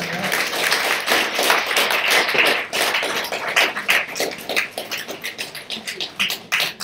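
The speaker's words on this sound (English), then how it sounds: "one more round of applause, please." A crowd applauds in a school gathering with students, dense overlapping claps forming a steady, fairly loud wash for about seven seconds, with the rhythm growing choppier and more individual toward the end.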